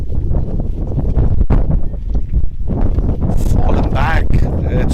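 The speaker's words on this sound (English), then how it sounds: "It's so windy out here." Strong gusty wind buffets the microphone at an outdoor cricket ground, roaring loud and steady throughout with rumbling bursts and a commentator's voice partly heard beneath it.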